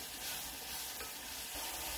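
Onions caramelizing in a cast iron pan give a loud, dense sizzle close by, with faint scraping from stirring through the short stretch and no voices.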